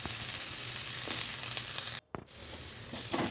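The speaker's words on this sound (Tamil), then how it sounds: "அதில் சுத்தம் பண்ணி வச்சுருக்கிற பிரண்டையை சேர்த்து நல்லா வதக்கி விட்டுக்கலாம்." Cleaned pirandai (veldt grape) frying in sesame oil in a kadai, a steady loud sizzle that cuts out briefly midway, then resumes with stirring scrapes.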